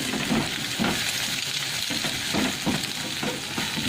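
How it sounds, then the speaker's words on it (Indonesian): Scrambled eggs sizzling and frying in a pan while being stirred, a steady close crackle with soft rhythmic scraping strokes repeating every half second or so, no voices. "Ini saya aduk-aduk aja bikin telur orak-arik"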